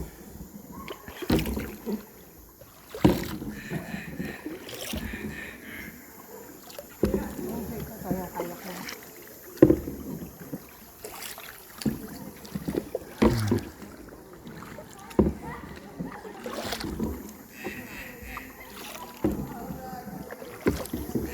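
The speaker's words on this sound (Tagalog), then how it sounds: "Sumakay ako ng bangka" A small boat travels on the water at El Nido, Palawan, with regular paddle strokes and splashes recurring every couple of seconds amid lapping water, close by, while people talk in the background at times.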